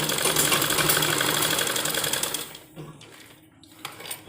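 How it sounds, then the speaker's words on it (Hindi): A sewing machine runs steadily, loud and close, stitching a lace strip onto a sleeve, then slows and stops with a few short bursts near the end. "इस साइड भी इसकी सिलाई लगानी है और इस साइड भी, ताकि हमारी दोनों तरफ से पट्टी दब जाए"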